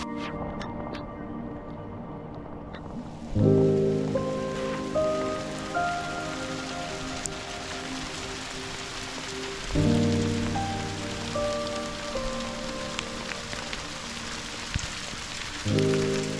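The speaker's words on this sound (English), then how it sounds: "The hail continued for about 3 hours non-stop, to some points where it got really heavy" Heavy hail pelting down for hours on a back-road overland trip, a dense steady clatter on surfaces with a loud engine or vehicle hum rising and falling underneath.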